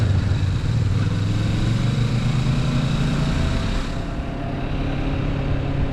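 A Kawasaki Vulcan S motorcycle engine hums steadily while riding, a low droning tone under wind rush that shifts in pitch partway through, as if easing off or changing gear.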